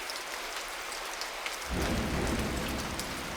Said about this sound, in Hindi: ये बारिश रुक जाए?